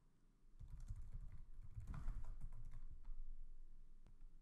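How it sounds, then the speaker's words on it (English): Someone types on a computer keyboard for a few seconds, a quiet, close flurry of soft key clicks in an uneven rhythm. "type a little note."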